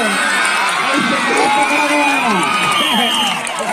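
A loud, dense crowd cheers and shouts at a village sports match during the 2022 Chhattisgarh Olympic games in Sarekel gram panchayat, with excited whoops and children's voices filling the air continuously.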